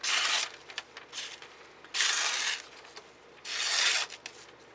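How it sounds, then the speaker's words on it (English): A hand-forged knife blade is sharpened with steady rasping strokes, three long loud passes separated by shorter, softer scrapes, close up with no voices. "And sharpen it up."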